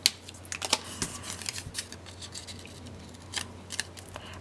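Scissors snip through paper scraps for handmade mini album pages, giving close, crisp cuts in a steady, irregular series with no talking.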